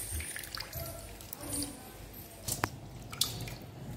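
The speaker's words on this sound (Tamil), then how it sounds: "இப்போ வந்து இந்த கிரேவிக்கு நான் தண்ணி ஊற்ற போகிறேன்" Water is poured into mutton biryani gravy in a cooking pot, giving quiet, irregular splashes and drips with a few sharper clinks scattered across the clip.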